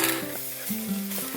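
Kimchi stir-frying in a pan, a short burst of soft sizzling with stirring and the clink of a utensil, close and fairly quiet, no talking.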